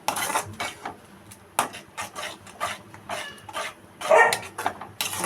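Carrot halwa cooked with ghee, stirred in a pan with a metal spoon, giving repeated sharp scraping and clinking strokes in an irregular rhythm, close and fairly quiet, with a dog barking faintly nearby.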